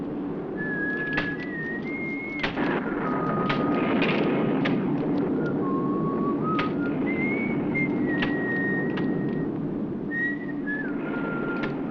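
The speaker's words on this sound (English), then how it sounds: "Stop that whistling." A person whistles a wavering tune in short phrases, clear and moderately close, over a steady low rumbling background.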